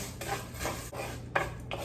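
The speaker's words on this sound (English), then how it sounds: "when you are frying when you're sauteing the fideo" Fideo noodles sautéing in oil in a pan over medium-low heat, with a steady frying hiss and several rhythmic scraping strokes of a utensil stirring against the pan, close up.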